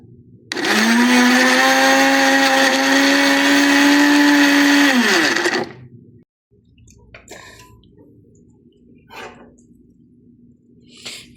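An electric kitchen blender whirs steadily for about five seconds as it purées tomato, ginger, a couple of green chilies and a little water, then cuts off, leaving quiet room noise with faint knocks.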